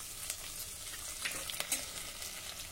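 Green chili pieces and curry leaves sizzle in hot oil, a soft steady crackle with faint stirring scrapes and occasional pops, fairly quiet and close.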